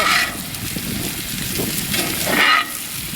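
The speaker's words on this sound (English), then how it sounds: "flip over our cremated steak" Steak sizzles on a grill right after flipping, a steady close hiss with two brief louder flares at the start and near the end; no voices.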